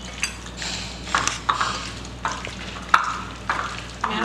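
Chicken being stirred with garam masala and Kashmiri chilli in a pan for an Ifthar dish: repeated scraping strokes at an irregular rhythm over a low steady sizzle, close and alone with no talk.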